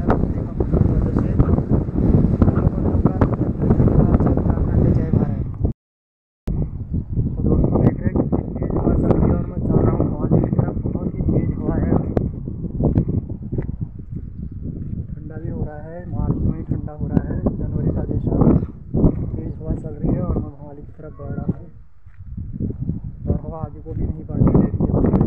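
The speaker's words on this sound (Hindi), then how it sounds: "आप देख रहे हैं कितनी ठंडी हवा चल रही है यहाँ पर मॉर्निंग में" Strong, cold morning wind in the mountains roars and buffets the microphone in heavy, uneven gusts, nearly continuous apart from one brief dropout, with a voice heard at times under the rush.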